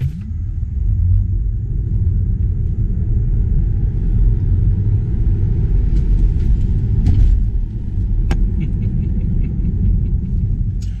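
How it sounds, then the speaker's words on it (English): A Tesla Model 3 Standard Range Plus accelerates from 0 to 60 mph: a steady low road and tire rumble fills the cabin while a faint electric motor whine rises in pitch. "we're on the opposite side of the road, doing a 0-60 one more time"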